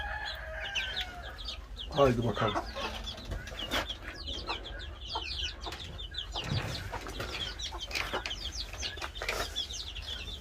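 Chicks peep and chickens cluck continuously nearby in a busy farmyard chorus, with a brief spoken voice partway through. The chicks are Pekin (dwarf Cochin) bantams.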